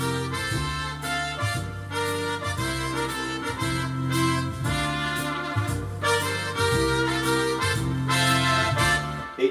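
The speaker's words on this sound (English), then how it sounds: "when you start to play chords" Keyboard melody carried over sustained chords, with a steady rhythmic pulse of full harmonic notes, continuous and fairly loud with no talking.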